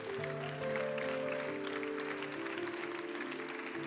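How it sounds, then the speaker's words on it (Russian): A church congregation at a Russian-language Sunday sermon claps together in a steady, dense round that lasts throughout, with sustained instrumental tones held underneath the applause. "Эти аплодисменты."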